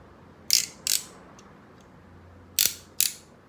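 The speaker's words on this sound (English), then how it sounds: "my robot makes really funny noises, doesn't she?" A toy robot gives off four short, sharp ratcheting clicks in two pairs, gear-like and close, separated by quiet pauses with faint ticks.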